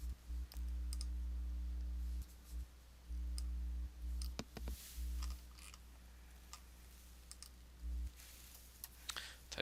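Sparse keystrokes and clicks on a computer keyboard, faint and close, scattered over a steady low electrical hum that cuts in and out.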